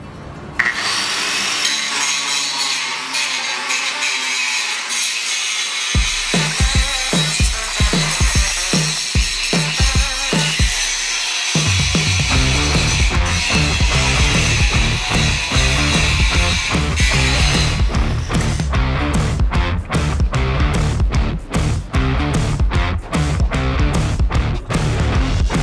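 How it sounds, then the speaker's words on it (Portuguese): Grinding and sanding on a steel sliding gate: a loud, continuous abrasive roar with a rhythmic rasping, scraping pulse throughout, close and steady, no voices. "vou primeiro lixar, esmerilhar tudo isso aqui"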